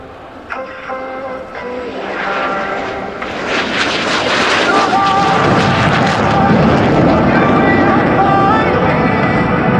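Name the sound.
MiG-17PF jet taking off with afterburner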